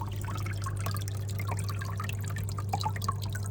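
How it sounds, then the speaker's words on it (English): Water trickling and dripping down the rocks of a small waterfall built into an enclosure, fed through a 90-degree angle fitting, heard as close, continuous splashy droplets over a low steady pump hum. "that simply faces that water down to the rock and allows it to flow freely"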